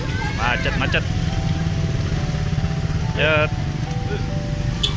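Motorcycle and car engines idle and rumble in a traffic jam near a night market, a steady low drone, with brief horn-like tones over it and people talking in the foreground.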